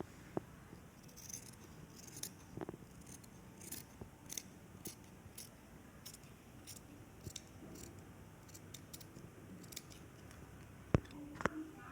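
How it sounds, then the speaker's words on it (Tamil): Scissors snipping through blouse fabric during tailoring, a string of quiet, sharp clicks and cuts spaced irregularly over a soft background hiss, close and faint, with no talking. "இதை ஃபுல்லாக கட் பண்ணி எடுத்துடலாம்."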